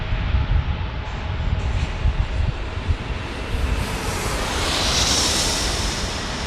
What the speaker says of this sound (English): This is an Embraer Legacy.